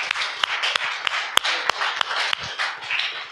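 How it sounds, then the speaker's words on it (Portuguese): A church congregation applauding during a service, a dense steady wash of clapping with sharp individual claps standing out, fairly close and with no voices on top. "Pode aplaudir o Senhor"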